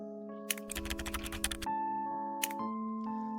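Keyboard typing on a computer while playing a detective mystery game: a quick burst of clustered keystrokes, then a lone tap, heard close over a steady tonal game-music drone.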